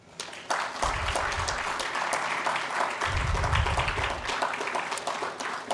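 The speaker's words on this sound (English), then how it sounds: "if I could just have a round of applause in memory of Bob" A conference audience claps in memory of a late colleague, a full, close burst of applause sustained throughout with a few scattered louder claps.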